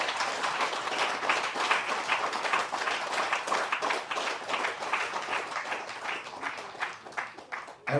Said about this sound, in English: giving a huge round of applause to our men and women in uniform